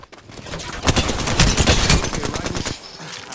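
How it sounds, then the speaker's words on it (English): Rapid automatic gunfire bursts in Apex Legends, dense and close, swelling into a sustained volley before tapering off, with a faint voice underneath. "They're firing on me."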